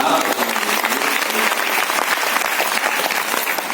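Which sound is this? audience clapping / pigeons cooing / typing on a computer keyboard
audience clapping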